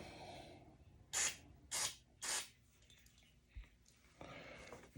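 Electrical cleaner from a can sprays into the differential of a 1/8 scale RC buggy or truggy: three short, sharp hissing bursts in quick succession, close and clear against a quiet background.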